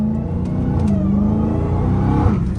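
A 797 hp Dodge Hellcat Redeye V8 revs through its active exhaust, giving a loud, steady, close-up rumble with a rising rev near the end and no talk.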